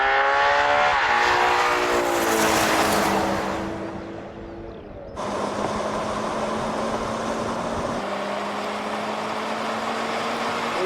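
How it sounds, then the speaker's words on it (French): A Ferrari Purosangue V12 SUV accelerates hard in a drag race, its loud engine note rising through gears with shift breaks, then a steady roaring drone at speed alongside other cars. "La Ferrari file."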